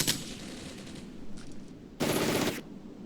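Two bursts of machine gun fire in the Armored Brigade war game: a short volley at the start, then a louder, denser burst a couple of seconds later over a low rumbling battlefield backdrop.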